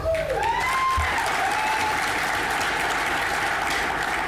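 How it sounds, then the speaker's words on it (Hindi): Loud, sustained audience applause at a corporate success event in a hotel in Hyderabad, a dense wash of many hands clapping throughout, with a few faint whistles rising over it near the start. "इस साल के सक्सेस के लिए फिर एक बार आप सभी के लिए जोरदार तालियां"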